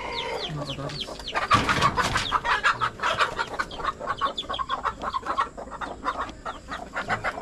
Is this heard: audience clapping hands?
no